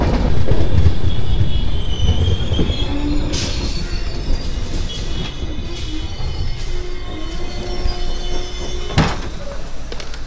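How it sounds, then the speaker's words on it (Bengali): A train on the Kolkata to Nepal line runs into Sagauli junction with a loud, continuous rumble of wheels and carriages, then high wheel squeals and metallic clanks as it slows. "ট্রেনটা চলে এসছে সাগলি জংশন"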